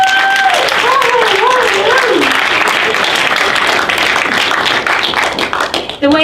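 A festival screening audience claps loudly for a filmmaker, a dense continuous round of applause that tapers off into scattered claps at the end.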